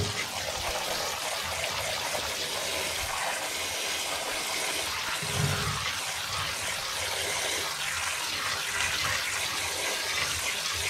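Water runs steadily from a tap over fresh American blueberries being quickly rinsed, a continuous close splashing rush with slight changes partway through and no talking.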